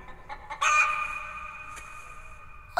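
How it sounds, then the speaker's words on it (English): A chicken in a movie teaser gives a loud, drawn-out squawk after a couple of short clucks, the call holding steady before ending in another quick cluck; no talk over it. "A chicken?"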